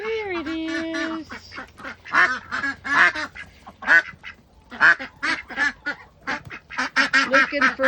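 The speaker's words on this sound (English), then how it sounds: "Got the ducks all excited." Several ducks quacking excitedly up close, a rapid run of loud, raspy calls overlapping in irregular bursts.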